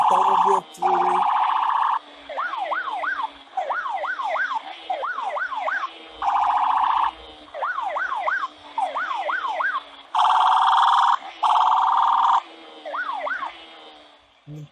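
Brazilian police car siren during a motorcycle chase, loud and close, alternating steady wails with rapid warbling yelps in repeated bursts over the whole stretch.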